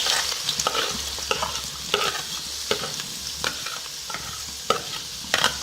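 Oil sizzles steadily as finely chopped onions fry for chicken gravy, with regular scraping and clinking strokes of a spoon stirring the pan.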